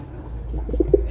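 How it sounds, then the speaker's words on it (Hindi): Low, soft pigeon coos, a couple of brief murmuring calls near the end over a dull background rumble. "ए भाई आ जाओ, कबूतर पकड़ने हैं।"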